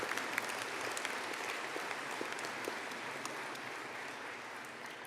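Graduates at a graduation ceremony receive a round of applause from the audience, a steady wash of many hands clapping, heard evenly and at a moderate distance throughout with no speech over it.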